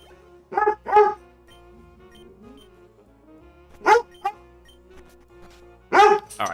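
A dog barks in short bursts, a pair of quick barks near the start followed by single louder barks later, close and clear over a quiet, faintly humming room.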